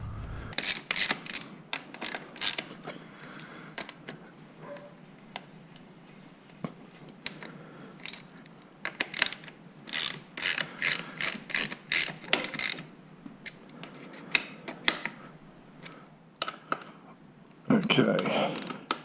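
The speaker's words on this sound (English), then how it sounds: "that torque wrench says they're at about 15 foot-pounds" A torque wrench ratchets in quick clicking runs while bolts are tightened for safety wiring, with pauses between bursts and a louder rattle near the end.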